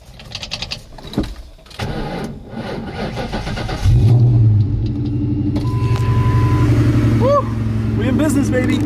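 A 1999-2000 Ford Mustang with a battery charger attached cranks several times, then catches and settles into a loud, steady idle rumble. A voice talks over the opening cranks.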